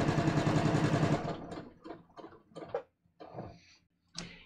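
A sewing machine zigzag stitches metallic thread across a paper note card, a close, rapid mechanical chatter for about a second, then breaking into short separate bursts of stitching with pauses between.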